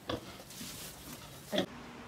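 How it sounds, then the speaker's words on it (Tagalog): A sleeping pig grunts twice, one short grunt at the start and another a moment later, close and fairly clear over a low background hum. "Yan among ang baboy kay natulog"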